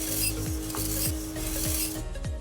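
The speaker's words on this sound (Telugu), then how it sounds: "ఇప్పుడు దీన్ని వేరే బౌల్లోకి తీసి పెట్టుకోవాలి" Dry roasted moong dal is scraped and stirred out of a pan into a bowl, giving steady close rasping and scratching with repeated soft metallic scoops.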